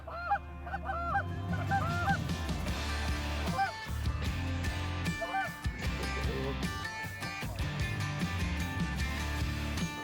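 A large flock of geese honks during a goose hunt in a blizzard, with repeated loud, overlapping calls near and far over steady wind noise.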